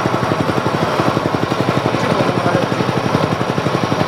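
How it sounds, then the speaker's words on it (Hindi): The small engine on a reaper attachment runs at a steady, loud, close putter, with rapid even pulses throughout and no speech. "इस लीवर को बाहर खींच लेना है और रिकॉइल को खींच के स्टार्ट करना है।"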